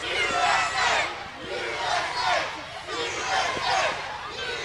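A wrestling pay-per-view arena crowd chants USA in steady rhythmic waves, a loud massed roar of voices rising and falling throughout.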